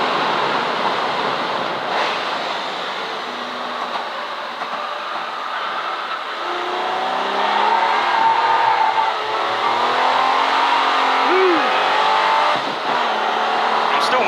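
A V12 race car howls around Silverstone circuit during a classic car race, its engine note rising and falling with gear changes, heard from inside the car over steady wind and road roar.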